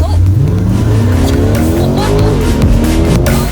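A Chevrolet C8 Corvette accelerates hard on the road, its engine rising and falling through the gears in a loud, continuous roar, with what sounds like tire squeal mixed in.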